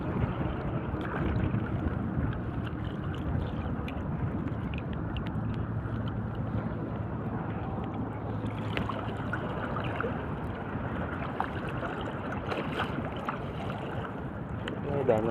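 Strong wind blowing steadily across open shallow sea water during a fishing outing by boat, a constant broadband rush with buffeting on the microphone throughout.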